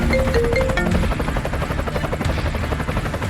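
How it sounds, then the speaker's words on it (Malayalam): A helicopter fills the air with loud, continuous rotor thumping and engine whine, holding steady with no voices. "അതോടെ ഹെലികോപ്റ്റർ അവിടെ നിന്ന് പറന്നുപോയി."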